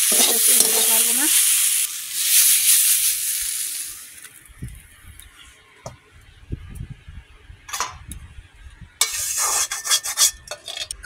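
Shrimp frying with vegetables (ridge gourd, Malabar spinach and potato) in a pan, loud crackling sizzle and scraping stirs at first, then quieter intermittent stirring clinks and scrapes, with a burst of sizzling near the end.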